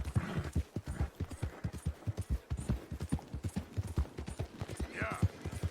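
Rapid rhythmic hoofbeats of a horse galloping in Red Dead Redemption 2, a steady clip-clop pattern throughout with a brief whinny near the end, under a faint game backdrop.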